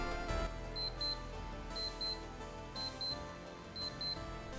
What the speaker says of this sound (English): Here's what the alarm sounds like.